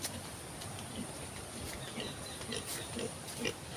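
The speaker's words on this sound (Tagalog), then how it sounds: "may mga baboy sila dito" Faint, scattered pig grunts come through a soft, hissy outdoor background by a riverside, several short snorts spread across a few seconds.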